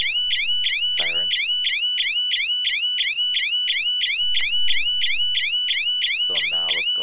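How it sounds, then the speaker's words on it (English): A motion-triggered smart home security siren sounds a loud, rapid repeating electronic warble that runs continuously, with brief bursts of talk at the start and near the end. "There goes the notification and the siren."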